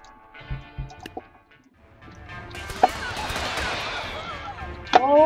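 Revolver shots from a six-shooter ring out in a western video game: a few sharp cracks spaced apart, then a louder stretch of gunfire and ricochet-like whines, with a final crisp shot near the end.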